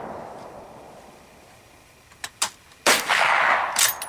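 A rifle shot at an outdoor shooting range, from a Mosin Nagant or an AR, cracks out loud and sharp after a few small clicks and knocks, then rings briefly into the open air.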